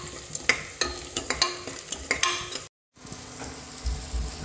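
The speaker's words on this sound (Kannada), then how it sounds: "ಸ್ವಲ್ಪ ಸಾಲ್ಟ್ ಹಾಕ್ಕೊಳ್ಳೋದ್ರಿಂದ ಆನಿಯನ್ಸ್ ಬೇಗ ಫ್ರೈ ಆಗುತ್ತೆ" Sliced onions with a little salt fry in a pan for egg biryani, giving a steady close sizzle under repeated scraping stirs of a spoon, with a brief cut to silence partway through.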